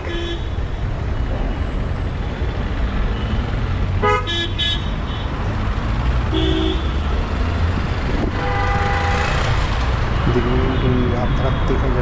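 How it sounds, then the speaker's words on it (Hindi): Road traffic along an evening drive through the Bandra Kurla Complex financial district, a steady roar of passing cars with several car horn toots, heard under someone talking. "ट्रैफिक"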